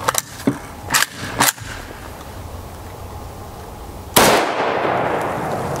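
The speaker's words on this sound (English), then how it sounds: "So up first is our 10-inch barrel." Three sharp, loud gunshots crack in quick succession from a .223 Remington rifle with a 10-inch barrel, fired outdoors on a chilly day, followed by a quieter stretch and then a final loud burst of noise.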